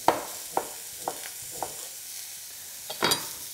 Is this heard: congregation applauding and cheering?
no